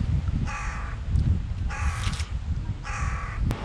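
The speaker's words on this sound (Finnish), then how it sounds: "Nyt on varis oppinut ihan uuden äänen." A crow gives three distinct harmonic calls spaced about a second apart, each a short burst, the middle one longest, over steady low outdoor rumble, with a sharp click near the end.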